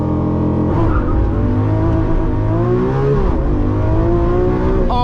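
A 2022 Lamborghini Countach launches hard using launch control, its engine roaring loud and close with a rising, gear-stepping pitch that dips briefly at a shift before climbing again.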